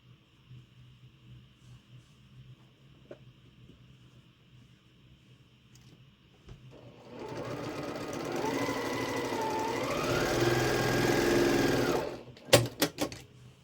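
A sewing machine stitches quilt blocks together in one steady run of several seconds, its motor whirring loudly after quiet handling, then stopping with a few sharp clicks.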